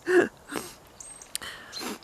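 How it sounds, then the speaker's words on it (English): A single close sneeze bursts out, followed by a few shorter snuffling breaths and sniffs. "I'm sneezing because I've just lit the stove"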